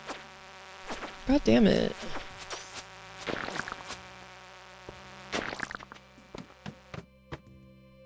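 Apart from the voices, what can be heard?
insect bugs buzzing in modded Stardew Valley video game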